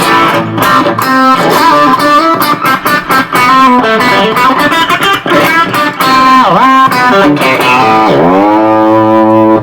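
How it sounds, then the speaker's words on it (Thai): Squier electric guitar played through an overdriven amp, loud and close, with distorted chords and bent notes ringing continuously, ending on a sustained chord with vibrato-arm wobble. "เสียงแตกจาก แอม"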